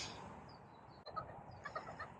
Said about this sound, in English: Do chickens get hiccups?